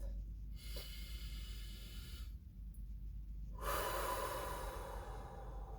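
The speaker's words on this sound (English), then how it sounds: "go ahead and take a deep breath" Slow, deep breathing close up: long drawn inhales and exhales with soft airy hiss, separated by quiet pauses over a low background rumble.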